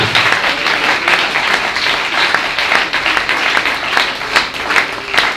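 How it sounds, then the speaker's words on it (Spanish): A church congregation claps in sustained applause, loud and dense with individual sharp claps standing out in an uneven rhythm. "Dele ese aplauso al Señor"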